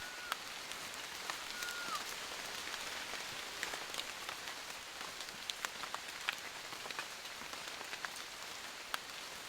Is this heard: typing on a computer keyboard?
no